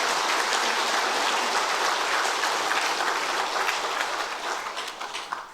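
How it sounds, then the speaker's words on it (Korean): A church congregation bursts into dense, sustained applause during a Sunday worship service, the many overlapping claps loud and steady before tapering off near the end. "우리 하나님께 영광의 박수 한번 올립시다"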